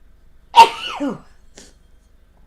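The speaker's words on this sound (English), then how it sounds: "I had to get that sneeze out." A single sharp sneeze bursts out close up, followed by a brief breathy tail and then near silence.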